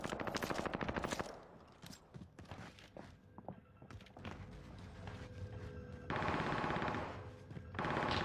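In a video game, bursts of rapid automatic gunfire open loud and close, then give way to scattered thuds and single shots before two more sustained volleys of fire.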